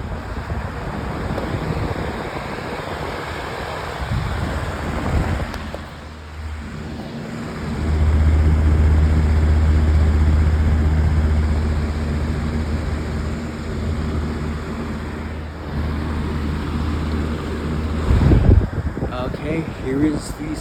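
A Lasko Elite Collection Cyclone 20-inch air circulator fan runs with a steady airy whoosh and a low hum that swells in the middle, with a voice talking faintly over it.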